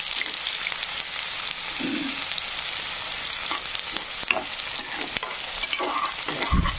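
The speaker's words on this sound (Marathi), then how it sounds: "मस्तपैकी कांदा फ्राय होऊ द्यायचा" Chopped onion frying in oil in a pan on a home stove, a steady close sizzle with occasional scraping clinks of a spoon stirring.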